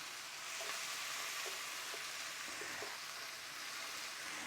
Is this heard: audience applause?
no